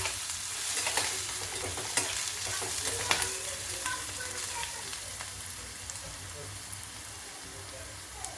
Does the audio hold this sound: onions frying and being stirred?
yes